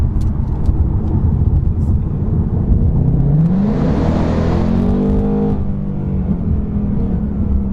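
A Ford Mustang engine revs up through a quick pull, its pitch rising steadily from a loud, steady drone to a peak and then easing off, heard from inside the car with no talking.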